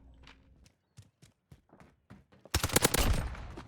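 Video game gunfire: a quiet stretch of faint scattered clicks, then a sudden loud volley of rapid, closely spaced shots that keeps going until the end.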